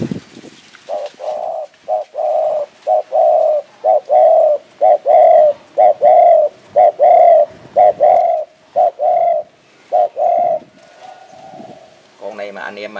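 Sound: spotted dove cooing (Phú Yên dove)

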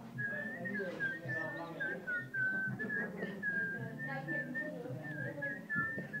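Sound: people whistling a birthday song together

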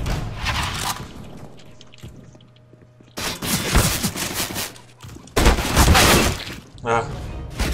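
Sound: gunfire in the video game CS:GO

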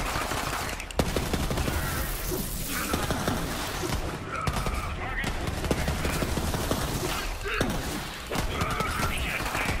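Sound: shotgun gunfire in Borderlands 3 video game

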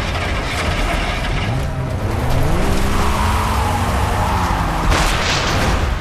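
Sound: car driving and skidding in the video game Far Cry 3

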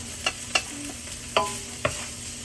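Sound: chicken being stir-fried for pancit bihon

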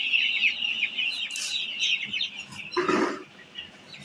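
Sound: chickens clucking

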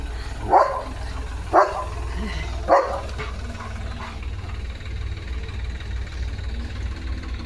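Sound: dog barking at a tractor

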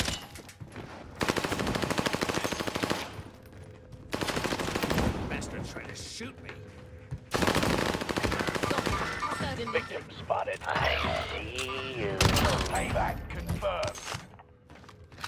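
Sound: gunfire in a video game

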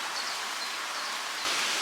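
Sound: rain

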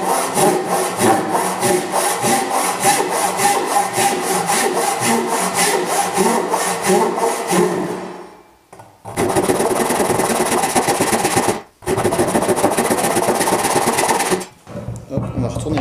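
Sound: hand saw sawing wood using the full blade length

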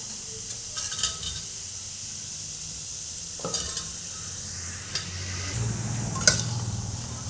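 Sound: vegetables added to pan with beetroot, stirred

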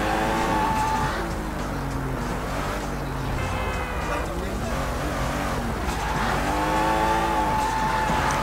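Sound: fast car driving in video game Sleeping Dogs

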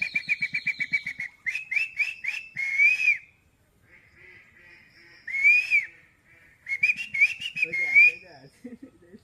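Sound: man whistling an imitation bird call

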